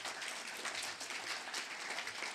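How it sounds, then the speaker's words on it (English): Audience applause for the speakers at a distinguished lecture series event, a sustained even patter of many hands clapping, fairly faint and distant, with no talking over it. "But let's give our speakers another round of applause."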